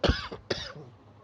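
Two quick, harsh coughs close to the microphone, back to back, then a faint breathy trail.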